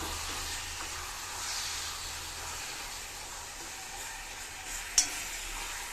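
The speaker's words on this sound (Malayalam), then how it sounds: "ചൂടായ നന്നായി വാട്ടിയെടുത്ത പഴത്തിലേക്ക് നമ്മുടെ ശർക്കര തേങ്ങ മിക്സ് ചേർത്ത് കൊടുത്ത് നന്നായി ഇളക്കി കൊടുക്കുക." Softened, heated banana stirred with a jaggery and coconut mixture in a hot pan, giving a steady soft hiss and sizzle with one brief scrape or clink near the end.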